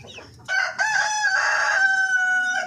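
A Darag rooster crows loudly and close by, one long drawn-out cock-a-doodle-doo that rises sharply after a brief quiet start and holds strong before trailing off.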